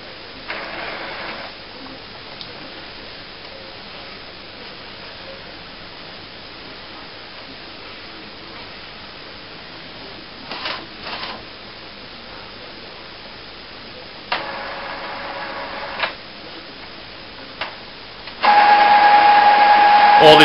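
An Epson SX-series inkjet printer shuttles its ink cartridges back and forth during setup after a continuous ink system is fitted, giving soft repeated mechanical whirs and a loud steady buzz near the end, with a voice talking over it.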